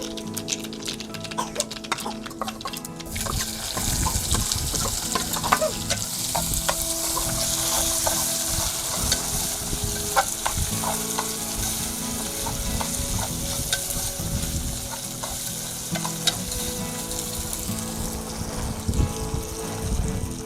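Onion, potato and green chilli frying in a pan for desi khichdi cooked outdoors on a farm, a continuous loud sizzle with stirring scrapes and crackles that starts suddenly and runs steadily throughout.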